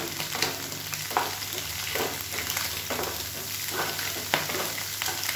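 Masala and egg frying in a pan for restaurant-style egg fried rice, a steady close sizzle broken by occasional stirring scrapes and clinks, with no talking.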